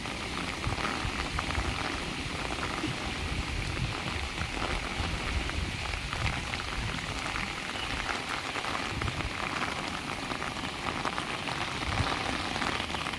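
Floodwater of the Rajpara river in Chotila taluka rushes past during heavy rain, a steady, dense broadband roar of flowing water that holds constant throughout with no talk.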